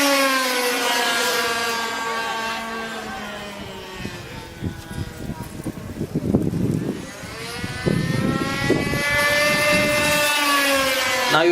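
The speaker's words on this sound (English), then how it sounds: "The plane is inverted, diving right in." A low-flying aerobatic plane at an airshow roars past with a strong engine drone that swells, dips and rises again as it dives inverted, close and loud throughout, with a voice faintly audible under the noise.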